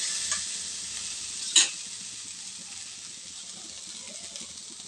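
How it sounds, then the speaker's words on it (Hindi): Corn breakfast with fresh coriander being stirred in a pan over gas, a steady faint sizzle with one sharp spoon clink early on, no talking. "तो इसको भी अच्छे से हम मिक्स कर देते हैं"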